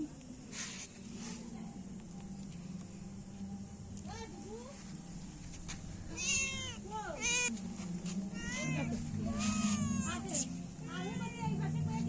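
A cat meows several times at close range, drawn-out rising and falling cries coming in clusters over a quiet room tone, while someone talks to it nearby.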